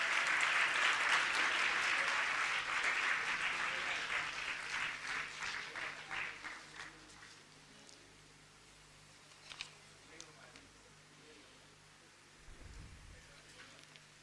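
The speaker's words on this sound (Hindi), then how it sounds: "तो लगातार तालियां बजती रहें।" An audience at a Delhi government school event gives loud, sustained applause that gradually fades into sparse, scattered claps, then near quiet with a few faint knocks.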